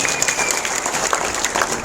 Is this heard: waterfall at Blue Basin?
no